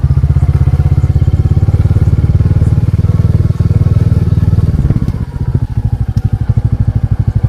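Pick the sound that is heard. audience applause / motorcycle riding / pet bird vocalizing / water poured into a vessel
motorcycle riding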